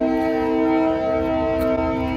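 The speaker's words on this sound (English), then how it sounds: "Oh, the horn went! The horn went!" A TranzAlpine train's horn blows continuously for about two seconds in New Zealand, a loud, steady multi-tone blast with strong harmonic layers and no break.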